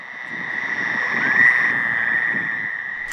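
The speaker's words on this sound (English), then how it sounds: "Most nights during breeding season, both the tree frogs and the toads are calling. The wah is the toads. The trill is the tree frog." Fowler's toads and tree frogs call together in a dense, continuous chorus at a rainwater pool at night, with a steady high trilling that swells slightly in the middle and stays loud throughout.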